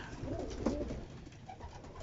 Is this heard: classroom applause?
no